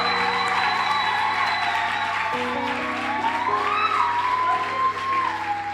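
A church congregation applauding and cheering for the Lord, a sustained wash of clapping under a prominent wavering tone, steady and fairly loud throughout.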